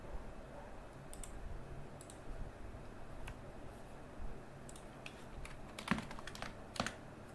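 Sparse computer-keyboard clicks from entering 0.25 into a cell in MS Excel, a few faint, isolated taps spread over a quiet background, with a pair of sharper clicks near the end.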